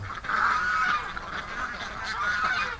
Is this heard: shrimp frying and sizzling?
no